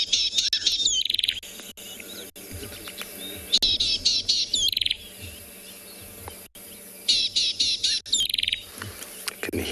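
A rattling bird call of a common acacia-woodland species in South Africa, played back from a phone, comes in three dense bursts of rapid chattering notes over soft insect and field background.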